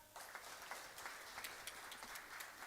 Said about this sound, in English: Give her another clap.